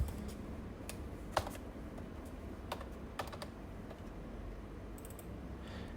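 Keys clack irregularly on a computer keyboard while a formula is entered into an Excel spreadsheet: scattered sharp taps of varying strength, close and fairly quiet over a low background hum, with no talking.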